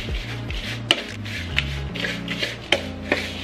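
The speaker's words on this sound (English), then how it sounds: "Then I'm just gonna mix everything." Ingredients being mixed by hand in a bowl, close soft scraping and rubbing strokes with a few light clinks of utensil against the bowl, no voices.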